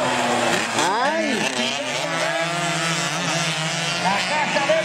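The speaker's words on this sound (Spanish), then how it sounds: "Pierde la potencia en su motocicleta el piloto, Leisi Santos" 135cc racing motorcycles during a race, engines whining and sweeping up and down in pitch as they pass, with a race commentator talking over the sound.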